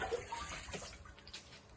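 Water from a motor-driven pump rushes in a steady, faint, continuous flow on a cold day, with no talking over it.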